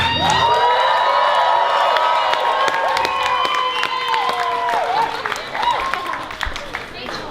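A crowd claps and cheers loudly and steadily at a comedy show, with violin tones rising and falling above the noise.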